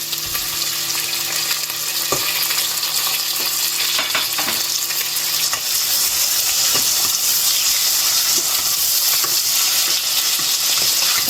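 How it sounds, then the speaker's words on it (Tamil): Tomatoes sautéing in an okra curry masala in a pan, a loud continuous sizzle close up with occasional clinks and stirring scrapes, no talking. "தக்காளி கொஞ்சம் நல்லா வதங்கட்டும்"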